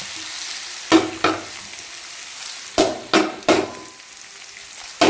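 Marinated mango pieces frying with garlic for mango pickle, a continuous sizzle punctuated by five or six sharp clanks of a spoon against the pan.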